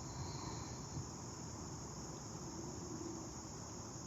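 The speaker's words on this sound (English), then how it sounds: "I'm just taking in that gentle buzz of the insects around me." Crickets and other insects outdoors keep up a gentle, continuous high buzz and chirr, steady and fairly faint, with no voices over it.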